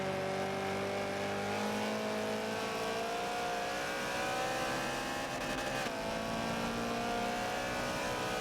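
Toyota BRZ race car at Suzuka in a racing video game, its engine holding a steady, loud drone with harmonic whine and gear shifts, continuous throughout with no talking.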